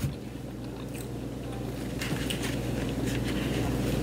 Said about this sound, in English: Now I gotta finish chewing before I talk.